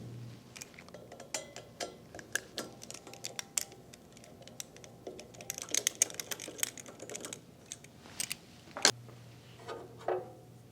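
Four T30 Torx fasteners come out of the screen on a Kawasaki FX921V 31 hp engine, with scattered metallic ticks, clicks and small clatters from the tool and parts over a low background hum, and no talking.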